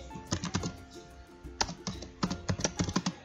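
Typing on a computer keyboard: close, crisp key clicks in irregular quick clusters with short pauses between them, alone without talk.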